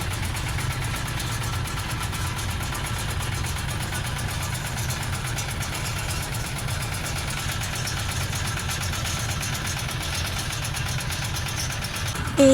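A motorboat engine runs steadily through a boat trip, a low, even droning hum that holds at a constant level from start to finish, with no speech.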